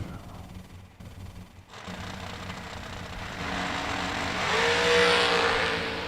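Race cars at a vintage motorsports twin-fifties event accelerate hard, the engine roar building from a low rumble to a loud, rising wail with a climbing harmonic whine near the end, with faint crowd and announcer noise early on.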